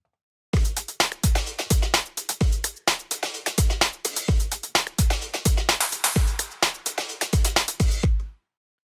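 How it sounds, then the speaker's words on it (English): Breakbeat drum loop at 128 BPM, built in FL Studio: punchy kicks with deep low tails and crisp snares and hats in a busy, syncopated pattern, loud and upfront with no voices. "start with the drum beat"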